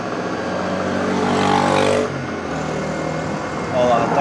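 A treadmill motor with no one on the belt spins up toward maximum speed during repair testing, a loud steady whirring drone that rises and then settles, with people talking nearby.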